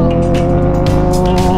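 A car overtaking on a provincial road, heard from inside a vehicle as a loud, steady engine drone with rising harmonic tones and rushing noise throughout.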